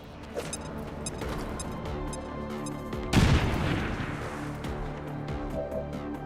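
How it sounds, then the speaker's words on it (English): In XCOM 2, a thrown grenade detonates midway with a single loud, rumbling boom that fades slowly over a background of low music and scattered combat sounds. "Let's throw a grenade."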